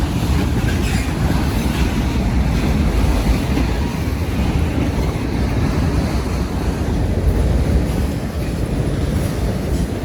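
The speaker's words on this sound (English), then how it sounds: "This train's putting a pretty good breeze off." A Norfolk Southern freight train rolls past close by on a hot day, its loud, steady roar of wheels and rushing wind continuing throughout with faint rhythmic clatter.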